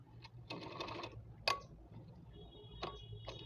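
A sewing machine stitches a salwar in a short, quiet burst of rapid whirring, followed by a few isolated sharp clicks and ticks.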